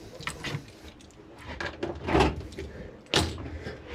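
Metal toolbox drawers sliding open and shut inside a mobile service van, a few sharp rolling clunks and rattles spaced across a few seconds.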